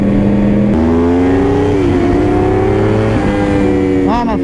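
A Yamaha R1 and Suzuki GSX-R 600 sport motorcycles rev and accelerate hard on twisting roads, the loud, close engine whine climbing in pitch through gear shifts over steady wind rush.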